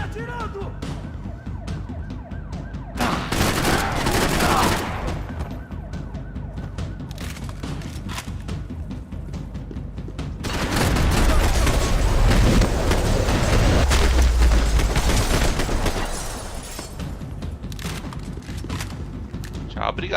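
Gunfire in the video game Max Payne 3 comes in sustained, loud bursts, one short volley early on and a longer, heavier barrage later, over a constant bed of game noise, with voices talking in the mix.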